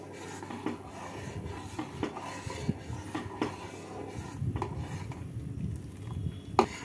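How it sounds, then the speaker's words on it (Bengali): Sago being stirred continuously in a pot as it boils for a ripe mango and tapioca dessert: steady soft scraping and light clinks of a spoon against the pot, close and moderately quiet, with no one talking. "সাবুদানাগুলো ফোটানোর সময় অনবরত নেড়ে যেতে হবে, নাহলে নিচে লেগে যেতে পারে।"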